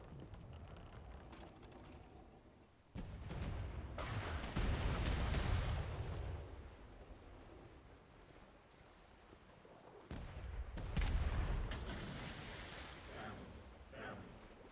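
Heavy mortar rounds boom in a multiplayer war game, two big low blasts a few seconds apart with long rumbling tails, set against steady battlefield noise.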